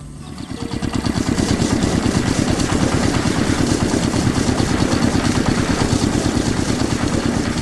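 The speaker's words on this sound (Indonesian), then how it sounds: "Suara mesin pun mengisi udara, membuat suasana semakin menarik." Large machinery runs with a steady, throbbing engine drone that rises at the start and then holds a fast, even pulse close by, with no voices over it.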